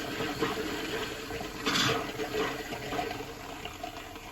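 An RV bathroom faucet opened with pink antifreeze flowing from the tap, a steady close rushing and splashing of liquid with a brief louder spurt partway through, no voices over it.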